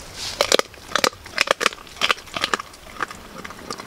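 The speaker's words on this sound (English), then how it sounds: "And crunch it. Get those big jaws going. Those big massive jaws." A dog chews guts with its big jaws at an outdoor bush camp, making close, wet, irregular crunches and bites in quick bursts with no talk.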